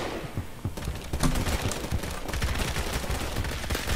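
Rapid, continuous gunfire from Phantom Forces, a Roblox shooter game, with dense overlapping shots and bursts at close range throughout, and no talk over it.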